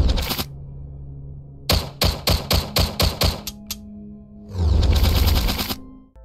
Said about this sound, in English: Gun sounds are kind of weak in this game